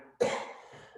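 A single sharp, close human cough bursts out after a brief quiet, then trails off into a breathy, rasping tail.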